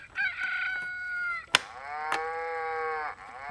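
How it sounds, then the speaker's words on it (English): A Vtech Learning Walker toy cow lets out two electronic moos, each a tonal, buzzy lowing lasting over a second, separated by a sharp click of the button press, close and fairly quiet. "Under the learning mode, if I press this cow, it makes it moo."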